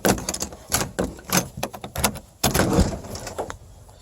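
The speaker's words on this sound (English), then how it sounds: "here's my little dog door for them" Dog door flap on a home's back door leading out to a porch play area for pit bull puppies, swinging and clacking in a series of short knocks and rattles, close and fairly loud with no talking.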